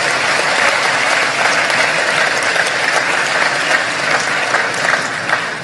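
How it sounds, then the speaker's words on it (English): Sustained round of applause from an audience at a national event honouring election commission members and staff, a dense, steady clatter of many hands that holds loud throughout and eases slightly at the end. "let's give all the members of the Commission and the staff a round of applause and thank them."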